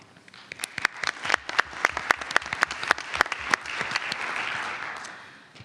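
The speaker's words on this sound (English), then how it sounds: "So applause to all of you." Applause breaks out at a school board meeting, a dense spread of individual claps that swells into steady clapping from the assembled crowd and then gradually fades, with no voices over it.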